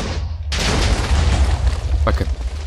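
Minecraft TNT detonation, a sudden loud boom that rolls into a long rumbling blast with a second crackling burst near the end, heard alone.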